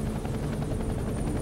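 A helicopter's rotor thuds steadily over a dense, loud roar of downwash, close by and constant, with no voices.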